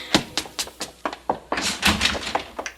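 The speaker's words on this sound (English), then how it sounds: "Margaret, haven't I told you not to slam the door?" Sharp wooden thunks strike in quick irregular succession in an old radio mystery drama, about a dozen knocks and bangs, close and loud, with a denser cluster of impacts midway and no speech.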